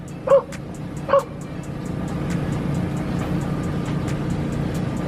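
Two sharp dog barks ring out about a second apart, followed by a steady low rumble of background noise.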